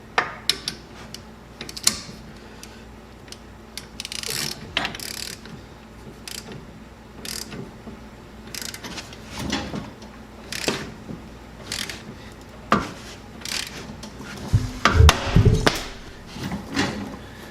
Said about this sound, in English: we just tightened it down there, and that pop was actually the ball joint letting loose and starting to move